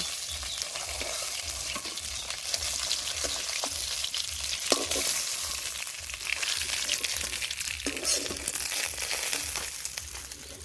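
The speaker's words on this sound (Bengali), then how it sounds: "মাছ ভাজার তেলে আলুগুলো ভেজে নেব" Continuous sizzling of potatoes frying in oil left from frying rohu fish, with occasional stirring scrapes and crackles throughout.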